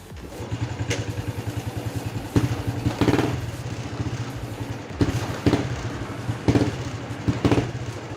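A Honda Wave 110i motorcycle with a faulty fuel injector is started and revved close by. Its idle chugs at a steady beat, and several sharp throttle blips rise above it with no one speaking.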